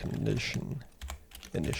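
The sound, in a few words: typing on a computer keyboard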